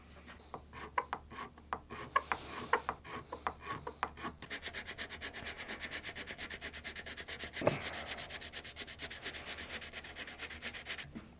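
Hand sanding of a flamed maple and redheart guitar neck, steady rhythmic back-and-forth rasping strokes close up, starting uneven then settling into a fast even pace, with a brief knock midway.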